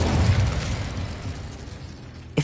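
A fiery Incendio spell burst in Hogwarts Legacy, a roaring whoosh of flame fading out, followed by a sharp pop near the end.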